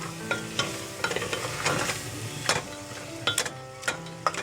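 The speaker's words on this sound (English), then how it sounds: "I'm mashing the tomatoes a little bit" Tomatoes are being mashed into lentils cooking on high heat, giving a bubbling simmer and soft sizzle punctuated by repeated knocking taps of the utensil against the pot, with no talking.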